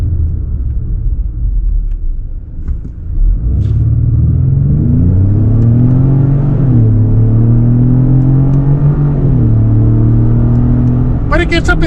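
A 2026 Ford Explorer Tremor SUV with a 10-speed gearbox accelerates hard, its engine note climbing in pitch, dropping at each shift and climbing again, loud and close inside the cabin, with a brief sharp click near the end.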